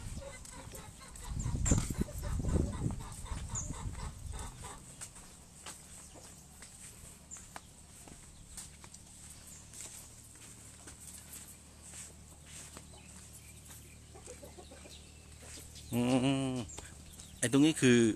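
Native Thai chickens on a small backyard farm give scattered clucks and rustles, with a loud burst of activity early on, a quieter stretch of footsteps and shuffling, then a few close calls near the end.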